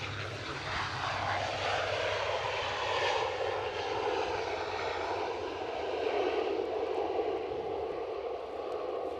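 A Loganair airliner landing at Edinburgh airport, its engine roar steady and loud throughout, with curving tonal whines sliding downward as it passes close by.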